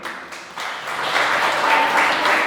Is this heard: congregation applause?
yes